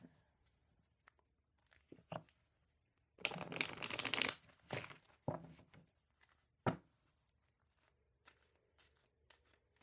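Cards shuffled by hand for an energy card pull, heard as a dense riffling burst near the start followed by scattered soft taps and clicks of cards in an otherwise quiet room.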